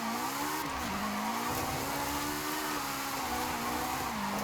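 Toyota GR86 tuned to about 500 horsepower with rear-wheel drive in the racing game Forza Horizon 5, its engine droning steadily with shifting pitch and tire noise, loud and continuous without speech.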